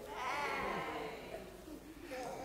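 Sheep bleating, a faint, wavering cry with a slightly distant, reverberant sound, heard on its own.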